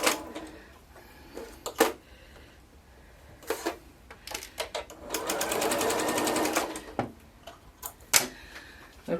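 A sewing machine runs a 1/4 inch seam through fabric strips, with a steady two-second burst of rapid stitching between scattered clicks and handling noises, close and moderately loud.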